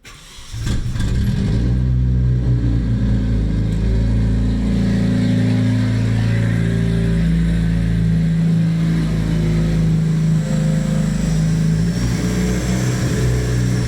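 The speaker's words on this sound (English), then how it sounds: "So I'm gonna crank it on and see if it's still leaking or not." Nissan KA24DET engine, freshly resealed at the timing cover, cranks briefly then catches and settles into a loud, steady close-up idle.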